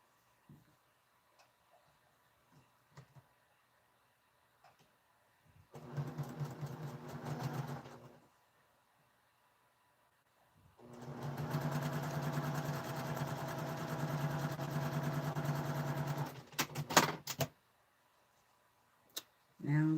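Sewing machine stitching a quilt top, running in two bursts, a short one and then a longer steady run, with a quiet, fast, even whirr, framed by faint clicks and handling noise.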